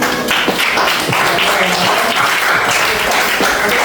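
An audience claps at an Indonesian school guidance-counseling presentation. The applause is loud, close and continuous, with individual sharp claps standing out from a dense crowd of hands.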